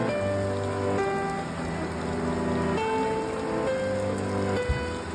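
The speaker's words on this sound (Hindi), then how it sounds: "चलो बारिश हो रही है" Steady rain falls in Mussoorie, a dense, continuous hiss of drops on surfaces with no let-up throughout, under a faint tonal hum in the background.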